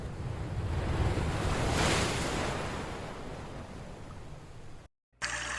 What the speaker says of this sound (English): What do you notice about the waves?